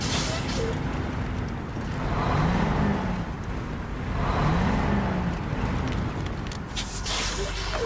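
Heavy truck in the SnowRunner video game driving and manoeuvring, a continuous low engine rumble that swells twice and eases again, with someone talking over it.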